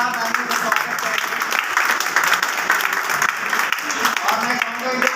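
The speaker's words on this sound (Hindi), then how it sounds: "जोरदार तालियों से स्वागत करेंगे।" Steady, dense applause from a large audience at a training event, welcoming members of a club as they stand, continuous and loud throughout with a talking voice mixed in.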